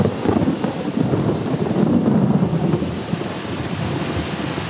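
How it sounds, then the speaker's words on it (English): Heavy rain pours steadily with a deep rumble of thunder rolling underneath, dense and continuous throughout, a rainy-season deluge. "a clap of thunder announces the rainy season"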